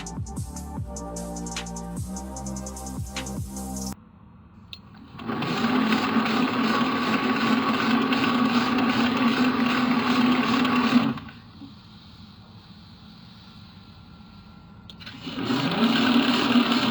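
Big fan roaring like a jet engine, a loud broad whooshing drone that starts after someone speaks, cuts out for a few seconds, then roars back up.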